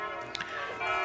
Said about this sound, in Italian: Adesso ringrazio le campane